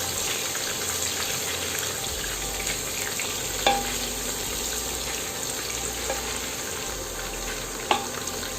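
Chopped onions dropped onto garlic already browned in hot oil, giving a constant close sizzle with a couple of sharp clicks of a spoon against the pan, no talking.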